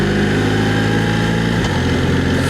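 A BMW R1300RT motorcycle engine runs with a loud, steady mechanical hum, close by, and its tone drops audibly partway through as if the engine shifts or eases off.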